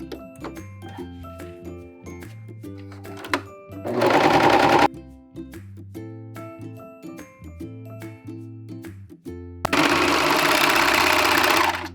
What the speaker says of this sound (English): So let's go ahead and serge the rest of our pieces.